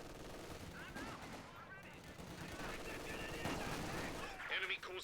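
Sustained MG42 machine gun fire in the Company of Heroes 2 game, dense crackling bursts with other battle noise, running under a commentator's voice throughout.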